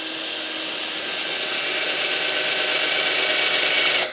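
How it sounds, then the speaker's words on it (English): A power drill whines steadily while boring straight down into wood, a loud, continuous high-pitched motor drone that rises slightly before cutting off at the end. "So you take your drill, and you're gonna go straight down, turn it on, go straight down into the wood."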